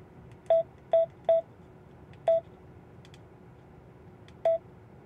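A Vero VR-N76 radio's keypad gives short electronic beeps, three quick ones in a row, then a single beep and another after a pause, crisp and close against a quiet background.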